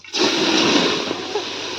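Water poured into a cooking pot at a group campsite, a sudden close gush that runs as a steady splashing stream, loud and unbroken by talk.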